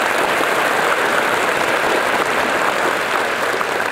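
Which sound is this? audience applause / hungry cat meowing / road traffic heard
audience applause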